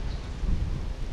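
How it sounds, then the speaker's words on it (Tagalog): Wind buffets the microphone with a low, gusty rumble, rising and falling over a moment, no voices. "Yeah, grabe po ang hangin dito sa amin."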